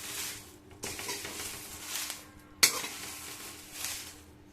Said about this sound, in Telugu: ఇలా పైకి కిందికి అంటూ మొత్తం కింద మాడిపోకుండా కలుపుకోవాలండి